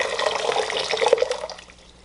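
Freshly boiled water is poured into a dye pot for yarn, a bright splashing, gurgling stream that holds steady and then tapers off near the end.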